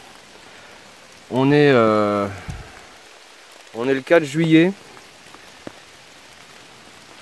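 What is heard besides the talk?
rain falling in the forest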